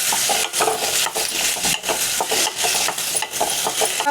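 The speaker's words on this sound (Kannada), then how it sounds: "ಇವಾಗ ಹಾಕಿರುವಂಥ ಎಲ್ಲ ಪದಾರ್ಥ ನೀಟಾಗಿ ಇಲ್ಲಿ ಫ್ರೈ ಆಗಬೇಕು" Two medium tomatoes and spices fry in a pan for avarekalu saaru, with loud scraping and stirring strokes at an irregular rhythm over a steady sizzle, close by and with no voices.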